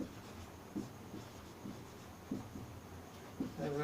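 Chalk or marker strokes on a board during a trigonometry lesson, several short scratchy strokes spaced irregularly, fairly faint against a quiet room.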